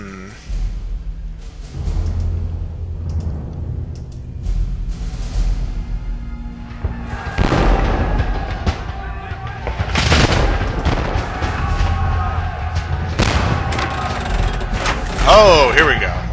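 A cannon firing in the video game Zork Nemesis, heavy booming blasts and rumbling mechanical clanks rising over a low game ambience, with louder bursts toward the end.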